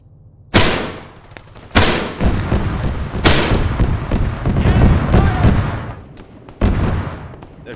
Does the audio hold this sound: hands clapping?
no